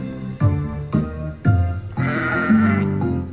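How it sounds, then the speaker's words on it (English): Sheep bleating in a barn on a farm in July, several loud, close calls in a quick repeating run, the bleats overlapping and stretching into longer wavering cries. "A sheep is in the barn, a sheep is in the barn."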